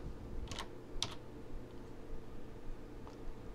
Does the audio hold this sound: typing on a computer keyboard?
yes